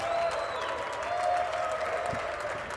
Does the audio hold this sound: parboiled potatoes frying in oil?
no